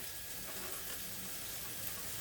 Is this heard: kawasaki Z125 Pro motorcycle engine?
no